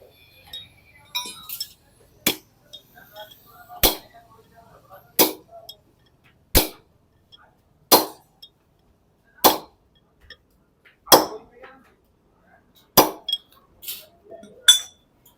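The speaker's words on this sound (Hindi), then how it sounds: "एक बेरिंग हमने इसके अंदर ठोक लिया पिनियन के अंदर" Bearing number 32211 hammered into a tractor pinion during Eicher crown and pinion fitting, a series of about ten sharp metallic clangs struck at a steady, spaced rhythm, close and loud with quiet gaps between blows.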